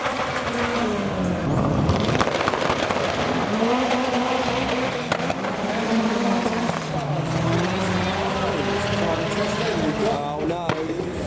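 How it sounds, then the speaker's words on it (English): Loud modified Ford Fiesta race cars roar past together, engines rising and falling continuously for about eleven seconds, with a brief tyre squeal and a voice speaking over the din. "we now have Fiesta v Fiesta. Loud Fiestas too."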